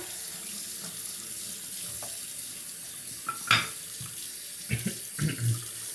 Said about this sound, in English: Let me rinse some of the surf and get it out of here.